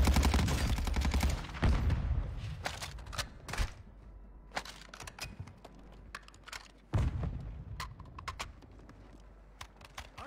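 Video game gunfire in a shooter, bullets punching through walls: bursts of sharp shots open loudly, then scattered lighter reports and clicks follow, with another loud volley near the end, no voices heard.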